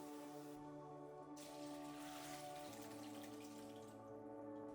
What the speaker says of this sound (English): I'll drain it in a colander and rinse with cold water 2 to 3 times to stop the cooking process